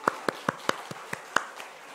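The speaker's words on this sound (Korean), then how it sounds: "우리 한번 박수 한번 보낼까요?" Church congregation in a Korean worship service claps along in a steady, evenly spaced rhythm, about seven sharp hand claps in two seconds that fade toward the end, with no talking.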